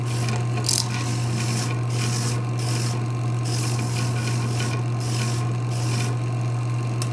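A hand file rasps steadily across a boot seat being shaped, a close, continuous scraping rhythm of repeated strokes over a constant low hum, with no voices.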